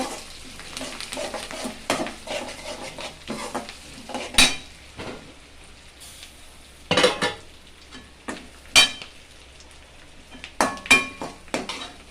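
Cashews frying in oil in a pan for pongal, stirred with a metal spoon that scrapes and clinks against the pan every few seconds over a steady close sizzle, with no talk.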